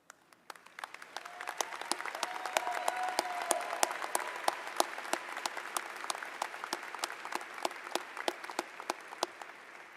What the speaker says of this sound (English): join me in applauding them